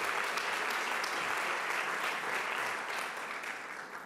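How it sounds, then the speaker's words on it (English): Steady audience applause fills a breakfast event for the Puerto Rican Day Parade, a dense, even wash of clapping that holds for several seconds and tapers slightly at the end, with no talk over it. "let's hear a round of applause for Governor Hochul"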